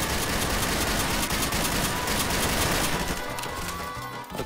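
Gunfire in Counter-Strike: Source during a Zombie Escape round on a Super Mario 64 level: dense, loud, continuous rapid shots from several weapons that taper slightly near the end.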